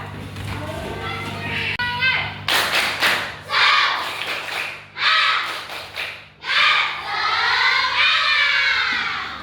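Schoolchildren in a classroom perform a tepuk semangat spirit clap, loud bursts of rhythmic group clapping and thumps mixed with chanting, shouting young voices, framed by children's chatter before and after.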